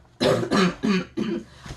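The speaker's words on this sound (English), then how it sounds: "all of a sudden I got this little cough." A person coughs four times in quick succession, close and fairly loud, each cough short and throaty.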